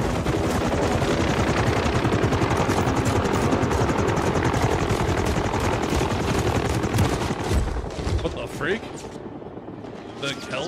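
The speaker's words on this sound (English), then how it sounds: "helicopter landing killed me" A helicopter landing in the Call of Duty Modern Warfare 3 campaign, on the Frozen Tundra mission: loud, steady rotor thrum with dense gunfire, fading near the end.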